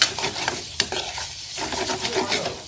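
Spicy garlic chicken with spring onions tossed in a hot pan, brisk scraping stir strokes and a clatter over an ongoing sizzle, close and uneven, no one speaking.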